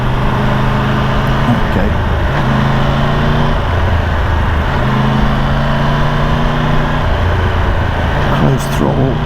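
Triumph 1200 GT Pro motorcycle engine in sport mode, a steady engine drone with a few rising and falling throttle swells, close and fairly loud, with a brief word spoken over it.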